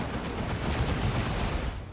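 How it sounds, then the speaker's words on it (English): A D-cannon fires in a Dawn of War 2 3v3 battle, a dense rumbling roar of heavy blasts and explosions that stays loud and continuous throughout, with no voices. "There's a D cannon doing its thing."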